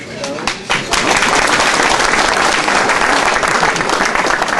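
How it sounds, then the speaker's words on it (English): Audience applause at a presentation night: a dense, loud burst of clapping from a sizeable crowd that swells within the first second and carries on steadily to the end. "so clap again"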